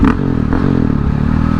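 A KTM 690 dirt bike engine rumbles up close on a city street, a loud steady throbbing rev with a rough mechanical rattle.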